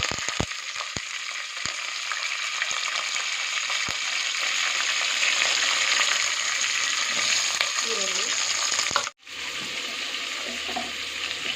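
Green chilies and curry leaves hit hot oil with a loud, steady sizzle, a few sharp spatters and ladle knocks at the start, then a momentary drop before the frying hiss resumes.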